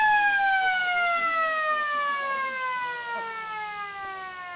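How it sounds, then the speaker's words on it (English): A long, loud half-time siren wails continuously at an under-15 Australian rules football match, slowly falling in pitch, with faint crowd noise underneath. "late in this second term as the siren goes"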